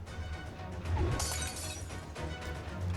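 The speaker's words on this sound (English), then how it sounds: "Sure enough, she hears the sound of shattering." A shattering crash in a narrated Arknights fantasy story, heard after a hammer swing: a broad burst of breaking noise near the one-second mark, rising over a constant low rumble of background music and effects.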